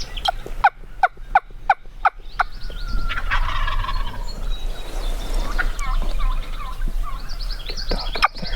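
Wild turkey gobbling and yelping outdoors during a hunt, a quick series of sharp repeated yelps followed by a rolling gobble, fairly close, with further calls trailing over a soft outdoor background.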